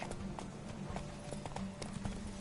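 Horse hooves galloping in a race in The Witcher 3, a steady rapid clip-clop rhythm over a low rumbling game ambience, moderately loud and continuous.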